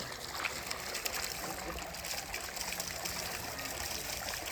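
Water runs continuously from an uncapped outlet in a Telangana village during the hot summer. It makes a steady gurgling trickle that stays constant throughout, with no talking.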